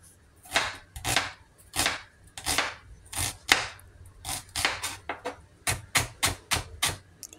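Knife slicing cabbage into shreds for salad, a steady run of about a dozen crisp, close cuts through the leaves, evenly rhythmic with short pauses and no talking.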